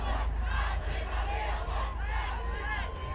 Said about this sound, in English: the quote-unquote rowdy crowd, very enthusiastic that they've won here tonight in Scottsbluff